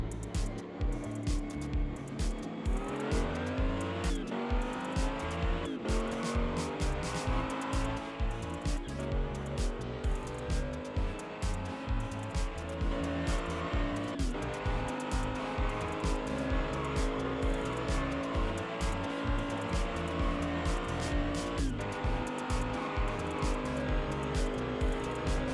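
Hot Wheels toy cars, a Subaru and a Ford Focus, race down a track in a steady, continuous rolling whir under dense background music, with no clear gaps.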